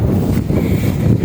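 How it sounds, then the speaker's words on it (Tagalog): Wind buffets the microphone on a boat trip over open water, a loud continuous rumbling gust with no voices. "Nami kang hangin pa."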